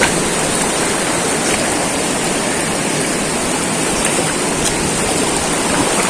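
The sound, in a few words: river water flowing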